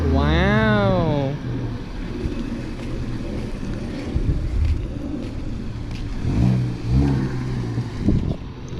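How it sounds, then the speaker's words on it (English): A Subaru STI engine revs sharply with a rising-and-falling whine and a quick turbo flutter, then idles roughly under wind noise while a voice speaks nearby. "A little turbo flutter."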